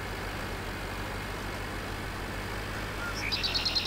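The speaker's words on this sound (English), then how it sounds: "I noticed this tractor was driving weird to start with, and now it doesn't even want to really pull this thing." A tractor engine in the Farming Simulator video game drones steadily while pulling a mega roller, a low continuous hum with faint pulsing near the end and no talking.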